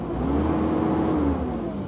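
A 2022 Kubota SVL75-2 rubber-track skid steer loader engine holds a steady, loud mid-pitched rev on hand throttle, a continuous drone with no talk.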